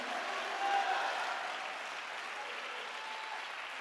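A church congregation applauds continuously, a dense, even wash of clapping from many hands that swells slightly early on and then holds steady, somewhat distant and fairly quiet.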